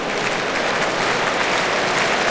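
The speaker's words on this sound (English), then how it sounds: "Once again, well-deserved applause from the crowd." Steady crowd applause filling a stadium at a Germany v Brazil football match, a broad continuous roar with no commentary over it.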